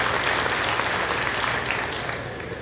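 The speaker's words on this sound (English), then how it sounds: "Let's give him a round of applause." Crowd applause at a livestock sale of champions event honoring an agriculture department representative, brisk even clapping that tapers slightly toward the end.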